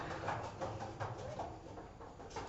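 Pigeons cooing on a rooftop, a soft, steady murmur of overlapping low coos with no talking, fairly close and continuous throughout.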